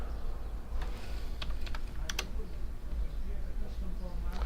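A number being typed on a computer keyboard: a few scattered, crisp key clicks in short bursts over a low steady hum, close and moderately quiet.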